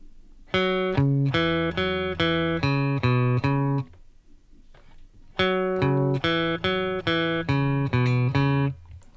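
A plucked guitar plays a short, bouncy bassline riff, repeated low notes, pausing briefly before the same phrase comes around again.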